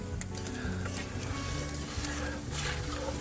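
Gravy made from turkey drippings and roux being stirred in a pot, with a soft continuous sizzle and bubbling plus faint scrapes of the spoon, close and steady without talk.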